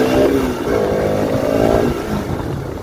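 A TVS Apache RTR motorcycle (RS) engine drones while riding on a road beside a pond near Sivasagar, a loud, close, steady mid-pitched hum with a slight change in pitch partway through.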